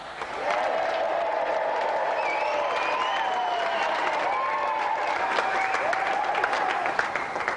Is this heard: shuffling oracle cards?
no